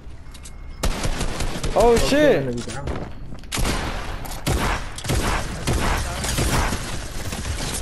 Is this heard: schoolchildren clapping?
no